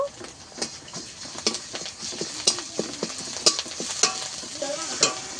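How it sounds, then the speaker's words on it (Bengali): Ginger-garlic paste and onions fry in hot oil in a pan, a steady close sizzle broken by regular scraping stirs and soft taps of a spoon against the pan, with no talking. "আদা রসুন আমি কিছুক্ষণ ভেজে নিয়েছি।"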